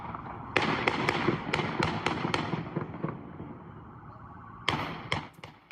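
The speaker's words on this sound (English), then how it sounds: "So you hear those loud pops. It sounds like gunfire" Gunshots ring out on a busy street, a rapid volley of sharp, loud pops in an irregular burst, a pause, then another quick cluster of cracks.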